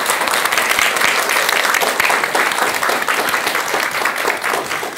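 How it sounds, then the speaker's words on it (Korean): A studio audience at a Buddhist talk program claps loudly and steadily, a full, close wash of many hands with a faint rhythmic pulse running through it that carries on without a break. "여러분 큰 박수 부탁드립니다."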